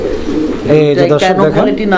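Two male Lahori pigeons coo close by, with rolling, throaty bursts that follow one another in quick succession over about two seconds.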